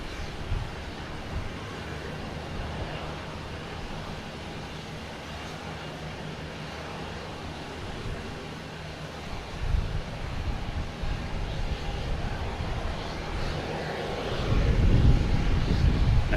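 A Lufthansa Airbus A380 on approach to land at Boston Logan makes a low, distant engine drone that grows louder toward the end, with wind buffeting the microphone.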